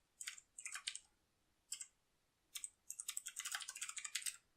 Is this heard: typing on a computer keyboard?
yes